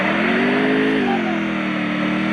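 Motorcycle engine in the Free Fire video game, a loud, steady mid-pitched drone with a slight rise in pitch, running continuously near and alone.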